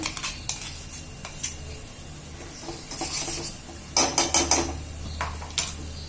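A pot of mixture with salt and finely ground peanuts being stirred and sautéed for a Maharashtrian home-style thali, with clinks and scrapes of a spoon against the metal pot in uneven bursts, louder toward the end.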